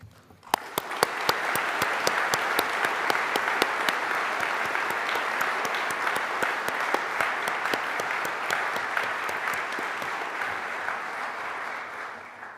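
Graduates and guests at a University of Adelaide graduation ceremony applaud in a large hall. A few sharp claps start it, it builds into steady, sustained clapping, and it fades slightly toward the end.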